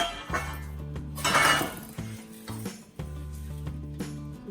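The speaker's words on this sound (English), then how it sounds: "So what I do, just put it on the pan." Clinking and clattering of a pan and utensils as a no-bake vegan pie crust mixture is put onto the pan, with a steady background hum and a few sharper knocks.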